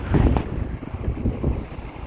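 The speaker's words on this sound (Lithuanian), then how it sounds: "Ir ką šiandien, vėl kitą dieną, vėjuota." Gusty wind buffets the microphone in loud, uneven low rumbles, close and continuous for a couple of seconds.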